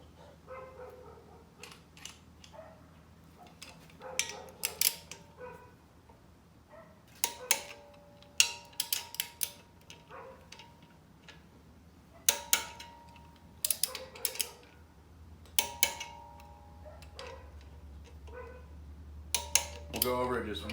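A torque wrench tightens the bolts on a billet alternator and power steering bracket on a 5.3 LM7 V8, giving sharp metallic ratchet clicks in short bursts over a low background hum, close by.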